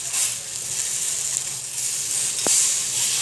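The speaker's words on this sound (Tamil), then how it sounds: "மேலோட எண்ணெய் போட்டு அப்படியே லைட்டாக திருப்பி போட்டுக்கலாம்" Raw plantain slices fry in oil on a tawa, giving a soft, steady sizzle and hiss close by, with one brief click partway through.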